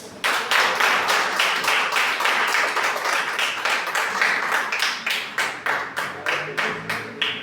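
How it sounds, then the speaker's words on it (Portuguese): A church congregation claps in unison during a worship service, a sustained run of sharp, evenly spaced hand claps that stays loud and rhythmic for several seconds, with no talk over it. "As palmas mãos ao Senhor."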